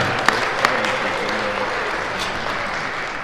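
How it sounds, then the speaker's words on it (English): A crowd at a Final Cut Pro user group evening applauds the Rio Hotel, giving a soft, even wash of distant clapping with a couple of sharper claps near the start. "Everyone give a round of applause to the Rio Hotel for taking such good care of us tonight."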